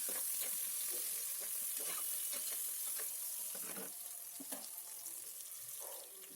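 Chopped onions frying in a pan, a continuous hissing sizzle with irregular stirring scrapes, steady and close, slowly easing slightly in loudness toward the end.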